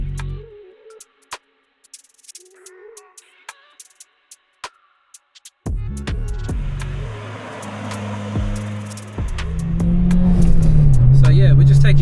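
A Honda Civic Type R EP3 starts a couple of track laps: quiet ticking and soft clicks at first, then the engine cuts in loud and close, droning steadily and rising in pitch as it pulls harder toward the end.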